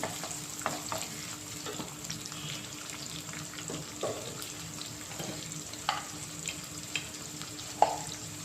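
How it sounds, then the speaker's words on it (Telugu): Onions and green chillies frying in oil in a pan for a cucumber, tomato and drumstick curry, a steady low sizzle broken by occasional stirring clinks and scrapes, close by. "గ్రీన్ చిల్లీ కూడా వేసేస్తున్నాను మంచిగా ఫ్రై బాగా ఫ్రై అయిపోవాలి ఇది ఉల్లిగడ్డలని"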